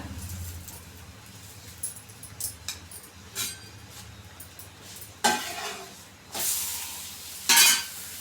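Chapati roasting in oil on a hot pan: soft continuous sizzling broken by scraping and clattering as the flatbread is turned and pressed, with louder bursts of hissing near the end and no talk.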